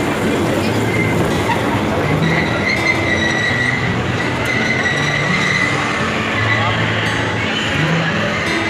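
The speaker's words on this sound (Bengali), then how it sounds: "এই ট্রেনটা এখান থেকে স্টার্ট হয়" A children's park ride train at a marine kids' park rumbles and rattles loudly and continuously, wheels clacking and squealing on the track.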